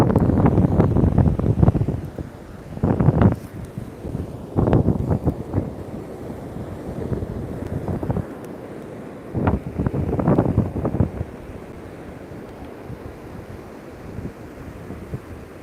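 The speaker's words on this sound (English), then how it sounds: "It was so still, there was virtually no wind, and now the wind came up." Wind buffets an outdoor microphone in irregular gusts, loud low rumbling bursts that come and go with quieter stretches of steady airy noise between them.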